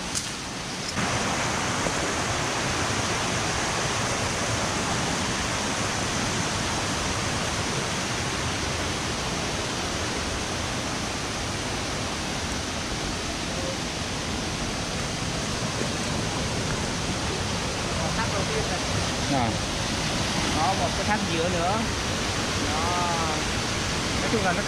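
Dak Trieng waterfall roaring steadily after rain, a dense, continuous broadband rush of falling water heard close and loud throughout, with no talk over it.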